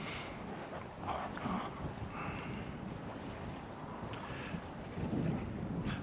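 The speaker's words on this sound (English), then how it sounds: "the wind's coming right at me. There's a little gust right here." Steady wind buffeting a GoPro 9 Media Mod directional microphone outdoors, a loud, constant low rumble with stronger gusts swelling near the start and again near the end, and no talking.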